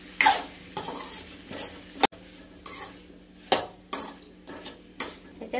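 A spoon stirring salt through a pan of cooking spinach bhaji, a few separate scraping strokes and clinks against the pot with short quiet gaps between them.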